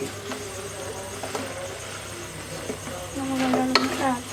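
Mutton goes into a frying pan and is stirred through, a low sizzle under scattered scrapes and clinks of the spoon against the pan, the stirring growing busier and louder toward the end.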